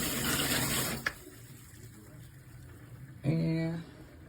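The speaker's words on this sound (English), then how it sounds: "you can see the water is starting to come through here" Water from a turned-on tap surging through an Aquarium gravel vacuum hose into a fish tank, a broad hiss that drops away, then a louder gush with a gurgling tonal burst near the end, no talk.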